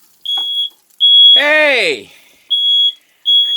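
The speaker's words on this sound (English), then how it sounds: "we set off the smoke alarm" A smoke alarm, set off by burnt food while cooking mashed potatoes, sounds in piercing, evenly spaced high beeps, close and loud, with one beep covered by a sharp shouted exclamation.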